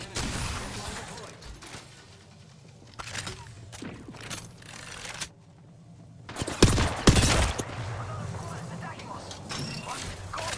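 Bursts of gunfire in the video game Apex Legends: loud, ragged volleys with mechanical clatter, separated by short pauses and set against continuous game noise and voices.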